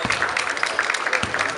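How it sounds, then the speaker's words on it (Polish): Crowd of Wielkopolska fans clapping in a sports hall after a youth basketball bronze-medal game, a dense, steady patter of applause at moderate distance. "Brawa kibiców z Wielkopolski"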